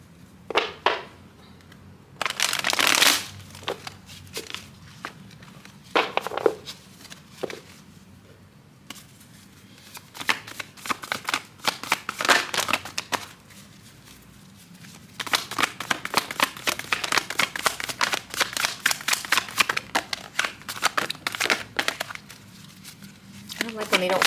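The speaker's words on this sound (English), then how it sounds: "I'm gonna do one more shuffle." A deck of cards being shuffled for a tarot reading: bursts of riffling and flicking at close range, first scattered, then dense and sustained, with speech heard faintly in between.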